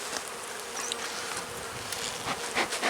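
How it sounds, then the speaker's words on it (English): Honey bees swarm and buzz from an opened hive in early spring: a steady, close hum with some individual bees flitting past and loudening near the end. "there's a good number of bees there"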